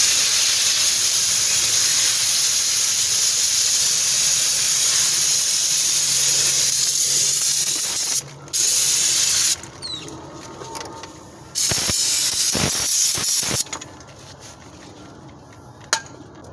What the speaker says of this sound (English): Give everything a thorough spray and a brake clean.